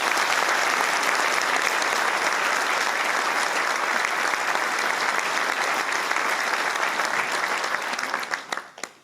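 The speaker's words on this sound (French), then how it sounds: "je veux bien que vous les applaudissiez" Sustained audience applause at a municipal New Year's greetings ceremony, a thick, uniform roar of many hands clapping for several seconds before it thins out and scatters into a few last claps at the end.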